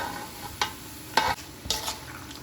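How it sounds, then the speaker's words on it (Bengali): A spoon stirs spices in a cooking pot over a soft sizzle, with three distinct scraping strokes close by and no talk. "তো এখানে হচ্ছে সবগুলো মশলা আমি ভালো করে মিক্স করে দিলাম"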